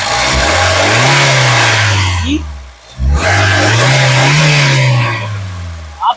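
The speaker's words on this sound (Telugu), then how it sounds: "ఒకసారి ఎక్సలేటరీ ఎక్సలేటరీ" A 2013 Honda City S manual car engine revs hard twice, its pitch climbing and holding before dropping back, loud and close with no talk over it.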